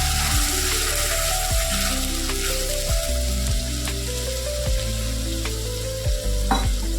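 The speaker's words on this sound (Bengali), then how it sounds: "মশলাটা দিয়ে এবার আলুর সাথে একটুখানি কষিয়ে নিতে হবে" Potatoes sautéed with a freshly ground paste of grated coconut and spices, a continuous close sizzle and fry with regular knocks of a spoon against the pan, no talking.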